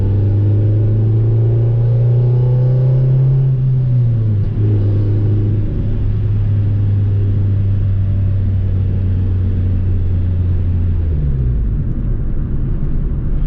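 An Acura Integra GSR with a B18C1 engine and an unsteady idle drives along, a loud, even engine drone whose pitch dips briefly twice as the car slows.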